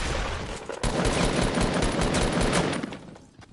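Sustained automatic gunfire in Fortnite during a solo match, a dense, loud burst of rapid shots running for several seconds before tapering off near the end.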